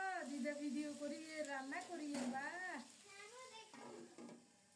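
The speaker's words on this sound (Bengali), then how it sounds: "এখন বসালাম আলুগুলো লাল লাল করে ভেজে নেব বাঁধাকপির ঘন্ট রান্না করার জন্য।" Potatoes frying in a pan for Bengali cabbage ghonto, with a steady sizzle running throughout under a voice speaking over the cooking.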